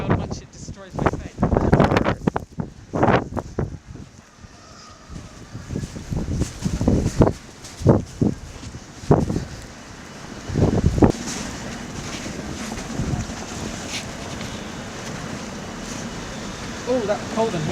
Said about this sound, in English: Oh, that's cold and windy.